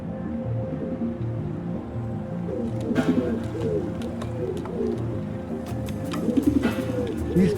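Loose pigeons cooing, several soft rolling coos repeating in low, throaty phrases close by, with brief clicks and rustles between calls.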